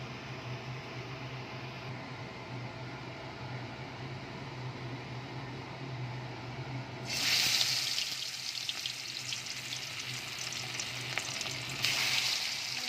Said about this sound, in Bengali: এবার আমি একটা একটা করে পকোড়া ভেজে নেব।